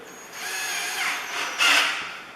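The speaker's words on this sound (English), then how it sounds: "when drilling into this, always hold it perpendicular" A close electric drill with a small bit whirs steadily, its pitch rising and bearing down as the bit bites into cabinet wood for handle holes, with a louder surge near the end.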